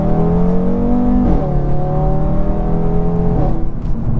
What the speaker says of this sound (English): a nice little pull there, get some acceleration